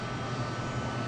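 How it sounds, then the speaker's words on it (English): A massive military transport plane arriving for a soldiers' homecoming, heard as a steady, broad engine roar that stays loud and even throughout, with no voices. "As soon as the massive plane broke through the clouds"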